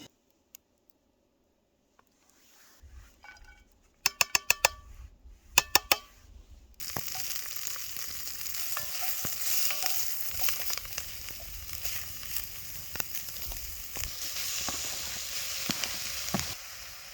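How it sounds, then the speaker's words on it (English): Japanese curry cooking in a Dutch oven at a winter campsite: a few sharp metallic clicks and stirring knocks, then a loud, steady sizzle and bubbling that fills the rest of the clip, close by. "I'm going to cook the curry in this Dutch oven."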